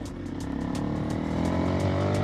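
A Honda CRF300L motorcycle runs at full throttle, a steady, close, droning engine note that climbs slightly in pitch, with faint wind buffeting.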